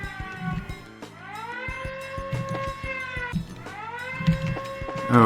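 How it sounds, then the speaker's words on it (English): An alarm siren in the video game Trails in the Sky wails in long rising and falling sweeps, loud and continuous, repeating twice over a busy background of game sounds. "are we gonna have this siren the whole time?"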